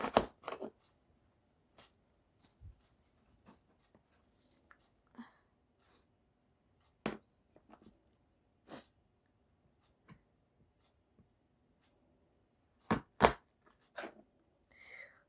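A knife chops onion on a cutting board in scattered, sharp taps, some single and some in quick pairs, close and fairly quiet against a near-silent kitchen.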